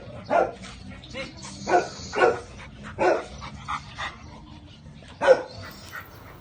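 A pet Labrador dog barks in several loud, close bursts with gaps between them, mixed with short whimpering yips, over a quiet indoor background.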